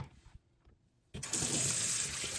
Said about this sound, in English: Now, I'm going to dump out the water and I'm going to rinse my Invisalign.